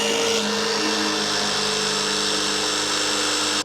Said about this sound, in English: now I'm gonna drill this thing